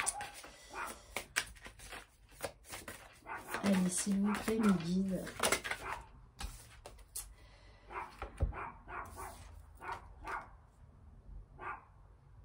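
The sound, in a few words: dog whimpering and barking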